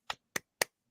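Three sharp, evenly spaced hand claps, close and crisp, in an interview setting, with no talk over them.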